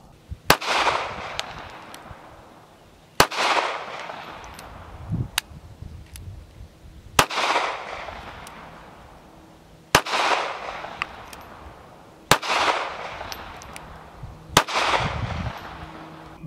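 A Taurus Spectrum 380 ACP micro pistol fires about six sharp shots at an outdoor range, spaced roughly two to three seconds apart, each followed by a short echoing decay.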